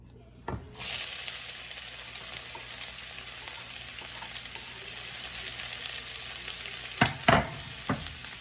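Chopped onions drop into hot oil for a Pakistani-style boiled white chickpea salan, bursting into a loud, steady sizzle that holds throughout, with a few clinks of a spoon near the end.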